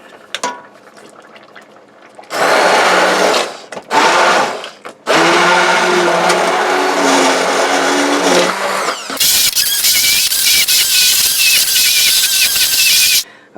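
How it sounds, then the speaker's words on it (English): Immersion blender pureeing cheesy broccoli cauliflower soup in a pot, loud whirring bursts that start and stop several times, then a higher, harsher stretch of blending near the end, no talking. "I'm going to use my immersion blender now and blend it all up until it's smooth"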